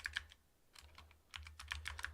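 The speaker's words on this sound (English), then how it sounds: "On my gamer keyboard" Quick, crisp keystrokes on a gaming keyboard come in two short bursts with a brief pause between, close up and fairly quiet, with no voices.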